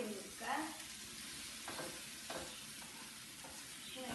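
A banana snack mixture being stirred in a pan on a gas stove, soft scraping and light sizzling strokes at a steady, quiet level with no talking.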